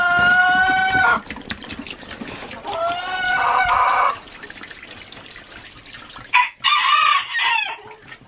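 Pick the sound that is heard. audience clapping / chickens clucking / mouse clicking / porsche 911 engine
chickens clucking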